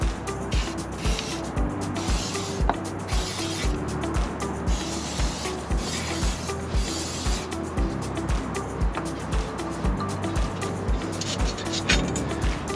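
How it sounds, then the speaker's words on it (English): A spray can hisses in short, regular bursts onto wheel parts of a Golf VR6, repeated rhythmic puffs over a low background hum. "Let's give it a little spray of this."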